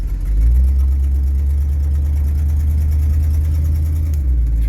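A 1973 Chevrolet Cheyenne Super C10 pickup with a 454 engine drives along a road, its deep steady rumble loud and close throughout, holding an even low drone after a gear shift with no voices.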